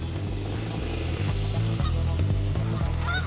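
A flock of geese honking repeatedly at close range over a steady low hum, with overlapping calls that grow busier toward the end.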